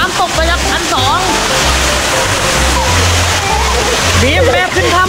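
Waterfall splashing loudly and steadily at close range, with a continuous rushing wash of water. Excited voices call out over the roar.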